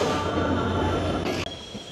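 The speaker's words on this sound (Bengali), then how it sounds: "এই যে বন্ধুরা ট্রেন আসছে" The Titumir Express pulls into Hili station in Bangladesh with a steady, loud rumble of rolling wheels and cars, and a brief harsher burst near the end. No voices are heard.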